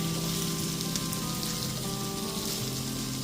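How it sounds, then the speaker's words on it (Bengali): Small fried prawns are mixed into a pan of young jackfruit and potato. A loud, dense, continuous sizzle of frying runs throughout, close up, with faint stirring. "সমস্ত ভেজে রাখা চিংড়ি মাছগুলো দিয়ে দেওয়ার পর খুব ভালো মতো মিশিয়ে নিচ্ছি।"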